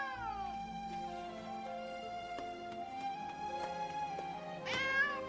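A cartoon cat in the French dub of Mew Mew Power gives long, drawn-out meows that slide up and down in pitch, loud and close over a sustained tonal backing.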